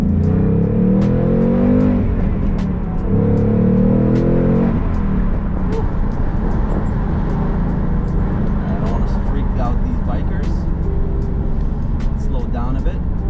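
Ford Mustang Bullitt accelerating hard, engine note rising in two surging pulls then settling into steady road rumble, with a voice talking over it throughout.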